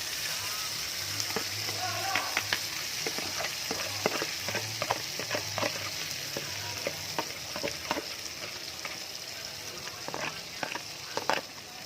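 Steady, loud sizzling of blender-ground chili frying in a pan for gulai curry, with crackles and pops and occasional scraping of a utensil throughout.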